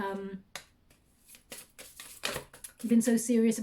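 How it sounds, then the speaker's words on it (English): Tarot cards being shuffled, quick papery riffles and flicks in short bursts, with a person talking over and between them. "they wanted one more shuffle"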